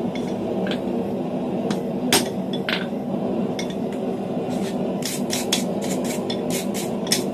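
Sharp metallic hammer strikes ring out at an irregular pace and then in a quicker burst, forging a fullered door handle in a workshop, close and bright over a steady background hum.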